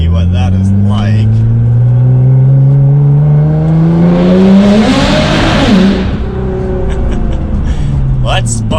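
A Nissan GT-R with an anti-lag tune accelerating hard in second gear through a tunnel, a loud close engine roar rising steadily in pitch with echoing reverberation, and a voice speaking over it.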